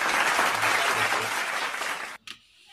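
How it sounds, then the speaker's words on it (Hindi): Audience applause greets a poet taking the stage at a Hindi comedy poetry gathering, a loud, dense burst of clapping that runs steadily for about two seconds and then cuts off abruptly. "तो जोरदार तालियों से भाई दीपक दिव्यांशु जी का स्वागत करें।"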